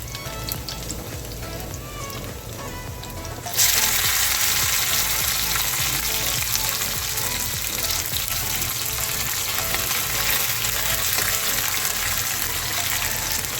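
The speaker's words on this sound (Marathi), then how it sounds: "लसूण हलकासा फ्राय झाला की त्याच्यानंतर कांदा टाकायचा" Garlic and onion frying in a pan for an onion-tomato chutney: a quieter sizzle jumps to a loud, dense, steady crackle a few seconds in and keeps hissing evenly to the end.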